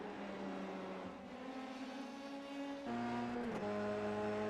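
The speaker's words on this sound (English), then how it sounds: "Trinka and Sykes getting a good run down the Andretti straight, heading into the final corners" Race cars at Mosport roar down the Andretti straight, steady high engine whine with gear-change pitch shifts, then another car's note joins as they head toward the final corners.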